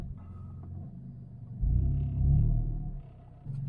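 Turbocharged Toyota Corolla engine rumbling low and close while the car reverses, swelling into a heavier, louder throb partway through, easing slightly, then rising again at the end.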